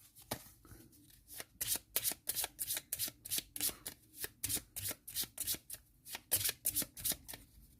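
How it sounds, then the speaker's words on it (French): Card shuffling for a solo tabletop session of the board game This War of Mine, as event cards are mixed into their decks: rapid repeated riffling bursts in an uneven rhythm, close and clear, with no talking. "Je vais prendre une carte habitant et une carte raid de nuit. Je les mélange dans leurs paquets respectifs."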